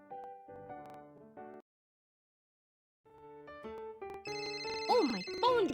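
A cartoon phone rings in the BabyBus children's game Little Panda Policeman: a bright electronic melodic jingle plays, stops for about a second and a half, then returns louder and fuller with swooping, chirpy tones, with no talking over it.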